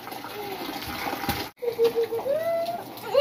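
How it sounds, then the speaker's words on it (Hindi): Water splashes and gushes in short bursts as it is thrown out of a tub used for washing a blanket, sloshing close by, with a brief pause midway and faint tonal sounds. "अभी ये पानी फेंकने दो।"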